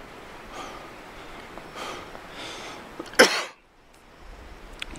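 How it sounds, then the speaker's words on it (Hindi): A single sharp cough bursts out during a mountain trek in snow-covered Swat, Pakistan, loud and close against quiet outdoor background and faint rustling. "खांसी लगी हुई है"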